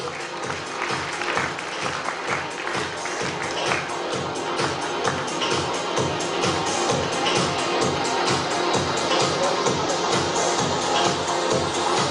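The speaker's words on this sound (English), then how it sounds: "Give them a big round of applause as well." Audience giving a team steady applause at an award presentation, dense continuous clapping with crowd noise lasting throughout, fairly loud and close.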